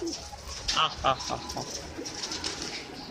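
Pigeons cooing and fluttering at close range, a few soft calls over steady outdoor background noise.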